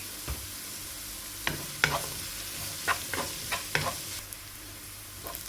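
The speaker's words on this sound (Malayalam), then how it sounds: "ഉള്ളി വാടാനായിട്ട് ഒരല്പം ഉപ്പിട്ട് കൊടുക്കാം" Sliced onions and shallots sauté with a pinch of salt for a Kerala-style squid pepper masala, a low continuous sizzle broken by intermittent spatula stirs and scrapes against the pan, no voices.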